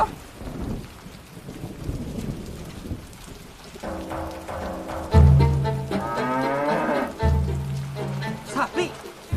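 A cow lows amid a rainy, thundery soundscape, with loud low moos rising in the second half over steady rain and rumbling, alongside a dramatic film-style mix.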